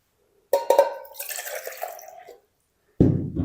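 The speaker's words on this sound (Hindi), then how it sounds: "तो पानी हम इसमें शामिल करेंगे" Two cups of water poured into a plain pot of chana dal for a palak tadka, one close splashing pour lasting nearly two seconds, then a clunk as something is set down.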